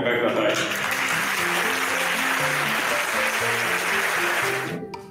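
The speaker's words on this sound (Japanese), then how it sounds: "拍手でお迎えください。" A high school audience applauds to welcome a visiting speaker, a steady spread of clapping that holds for several seconds and then tapers off, while music plays underneath.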